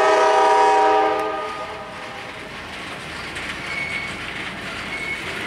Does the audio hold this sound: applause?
no